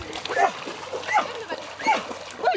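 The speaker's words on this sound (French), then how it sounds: "C'est un chien qui devait être aboyeur, qui devait aboyer. Et puis, il a la voix cassée." A dog with a hoarse, cracked voice barks in four rough, raspy bursts spaced about half a second apart, close by, over faint splashing and background noise.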